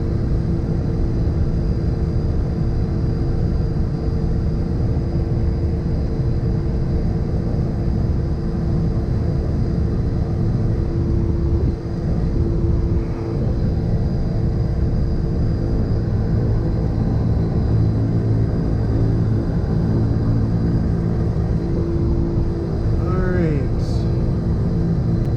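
Turboprop engines of a Beechcraft King Air A90 idle on the ground, a steady loud droning rumble with a constant whine that runs unbroken throughout, heard from inside the cockpit.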